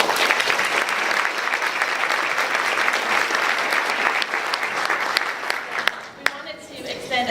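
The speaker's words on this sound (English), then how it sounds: "Just want to give them a round of applause for doing such a good job on the Pledge of Allegiance." An audience at a chamber of commerce luncheon applauds children after their Pledge of Allegiance, a loud, steady sustained clapping that tapers off near the end.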